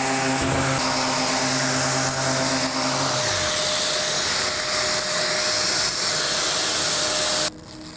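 Wood is sanded with Abranet mesh abrasive under a loud, steady roar from the sander and its extraction. A lower hum drops away partway through, and the noise cuts off abruptly near the end.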